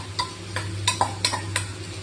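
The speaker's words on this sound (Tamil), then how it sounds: "மாங்காவை நம்ம எண்ணெய்க்குள்ள போட்டுட்டு" Small mango pieces fry in hot oil for pickle, a low steady sizzle under about five light spoon taps and stirring clinks against the pan.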